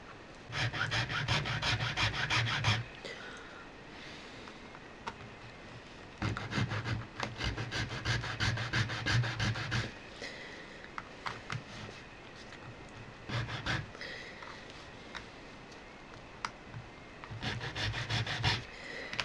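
Brass rod being hand filed to cut a notch, with bursts of rapid rasping strokes separated by quieter pauses, close up and without talk.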